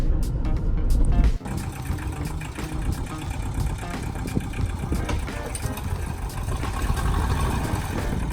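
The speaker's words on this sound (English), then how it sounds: "We got the old Jeep out. He's just moving it out of the way so we can get the Wrangler in there" An old Jeep idles and is driven a short way in a garage, a steady mid-pitched engine rumble close by, with a brief bump near the start and no talk.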